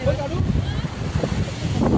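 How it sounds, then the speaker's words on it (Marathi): Strong wind buffets the microphone on Malvan beach while waves surge and wash in, producing a constant low rushing roar with gusty swells, loud and close. "वारा पण जाम सुटला आहे. तिथे लाटा पण जाम आहे."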